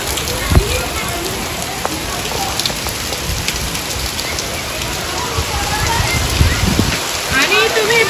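A sudden heavy downpour with wind drums loudly and evenly on surfaces, a dense continuous hiss of rain with scattered sharper drop hits close by.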